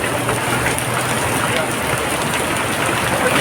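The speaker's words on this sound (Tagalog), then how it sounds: "Dumidilim na sa lakas ng ulan mga kababayan." Heavy rain pours down hard in an urban street, a dense, steady hiss of water striking surfaces, loud and unbroken throughout.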